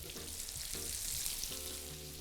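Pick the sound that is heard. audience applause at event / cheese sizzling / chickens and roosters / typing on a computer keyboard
cheese sizzling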